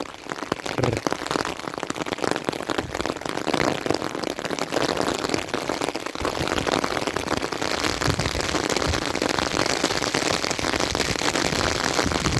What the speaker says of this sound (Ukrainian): зараз дощ іде